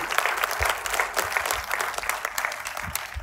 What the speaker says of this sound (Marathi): पुन्हा एकदा जोरदार टाळ्या वाजत राहिल्या पाहिजेत या ट्रेलरसाठी